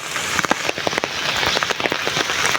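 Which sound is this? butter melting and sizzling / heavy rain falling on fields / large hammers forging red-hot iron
heavy rain falling on fields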